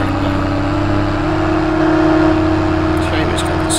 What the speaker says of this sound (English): This is a cool tractor.